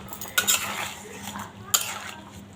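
Cumin seeds added to a home cooking pot and stirred in with a spoon, giving two sharp metallic clinks of spoon against pot over a faint low hum, close and brief.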